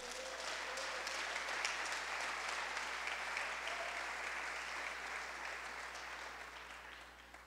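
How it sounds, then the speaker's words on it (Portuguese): Audience at a church conference applauding, a dense, steady wash of clapping from a large crowd that fades slightly toward the end. "Você pode aplaudir ao Senhor?"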